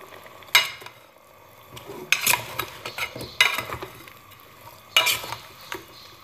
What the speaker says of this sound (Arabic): راح نخليها تقلى ثاني مده دقيقه الى دقيقتين باش تشرب هذوك التوابل